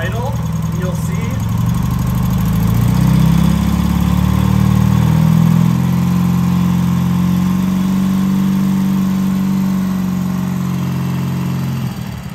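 A carbureted BMW Airhead boxer-twin motorcycle engine with Bing carbs is brought up off idle, its note rising to a held higher rev and then easing back, loud and close with a steady drone.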